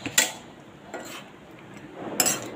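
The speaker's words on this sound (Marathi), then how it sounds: "मंचुरियन त्या ग्रेव्हीमध्ये चांगले परतून घेऊया." Cabbage manchurian is stirred into gravy in a pan, producing a few sparse metallic clinks of a spoon against the pan, separated by quiet gaps with a faint background hiss.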